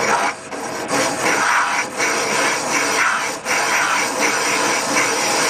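A lathe turns a wheel with a continuous, dense grinding rasp of the cutting tool against the metal, loud and close, with small periodic dips in the steady scraping.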